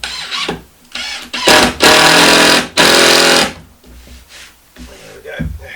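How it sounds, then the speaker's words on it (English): A power drill pre-drilling a hole through chipboard into hardwood, with two long, loud, close bursts of whining drilling between shorter starts and stops. "I'm just pre-drilling the hole out, because it is going into hardwood once it gets through the chipboard"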